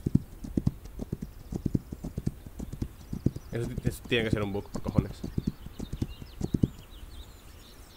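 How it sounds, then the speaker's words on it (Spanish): Horse hooves clip-clop in a regular rhythmic beat in the Western sandbox game This Land Is My Land, with a brief whinny midway, while someone talks over the steady footfalls. "mira el caballo"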